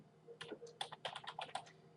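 Fast typing on a computer keyboard, a quick run of crisp clustered key clicks over about a second and a half, fairly quiet and close with no talking.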